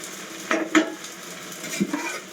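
Potato pieces fry in a pan for a Bengali mixed vegetable dish, a low steady sizzle marked by a few clinks and scrapes of a spoon against the metal.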